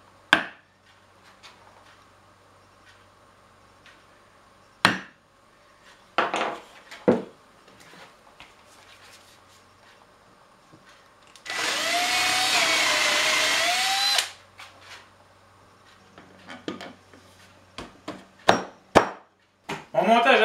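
Center punch tapping a mark into wood, then a power drill boring a hole for a rechargeable coffee table in a woodshop: sharp isolated knocks, a loud steady drill whir of about three seconds, then more scattered taps and handling clatter.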